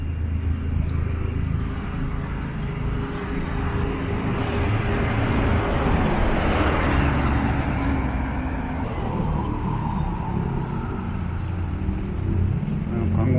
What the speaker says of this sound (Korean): 차량 정체가 장난 아니네 여기도.